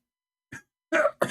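A man coughs during a live debate: a short throat-clearing cough after a pause, then two harsher coughs close together, near and fairly loud with no other sound around them.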